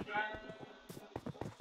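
Sheep bleat in the Minecraft video game, a wavering cry followed by a run of short choppy bleats and soft clip-clop steps, close and clear, with no talking over them.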